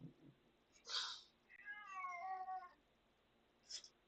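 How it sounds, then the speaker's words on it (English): A cat meows several times in drawn-out, wavering cries with a short yowl near the end, fairly close and alone, with no talking. "That is my cat going nuts."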